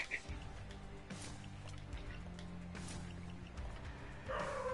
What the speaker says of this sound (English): Barking for no reason.